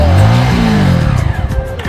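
A motorbike engine revs loudly and close by on a road near Rani Mahal in Palpa, a steady throaty roar that eases off into rougher, pulsing idling; no one speaks.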